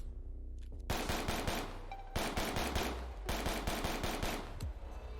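Rapid automatic gunfire in the shooter game BF:RI, loud close bursts separated by short pauses, with the last burst ending in a few single shots.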